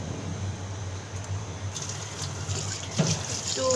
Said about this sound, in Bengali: একটু ঠান্ডা পানি দিয়ে ধুয়ে নেব।